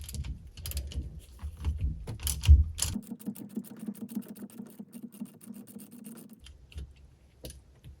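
Ratcheting tool clicking steadily while a bolt is unscrewed from a fuel line fitting on a Sea-Doo GTX 951DI jet ski engine, close and fairly quiet, with a few sharper knocks early and a low hum through the middle.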